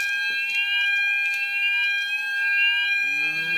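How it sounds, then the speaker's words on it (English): A fire alarm sounds during a test, a loud, steady electronic tone with high harmonics that holds throughout, with faint background noise and a brief low rumble near the end. "Fire alarm test 30 even."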